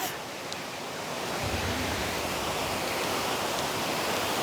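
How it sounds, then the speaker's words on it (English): Water pouring down the Kodai waterfall near the Isha Yoga Center, a steady broadband roar of falling water that holds constant throughout, close and full with no voices over it. "you are seeing the Kodai Waterfall, which is very popular near Isha Yoga Center"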